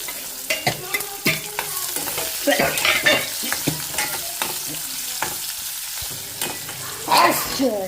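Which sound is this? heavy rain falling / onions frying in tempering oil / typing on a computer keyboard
onions frying in tempering oil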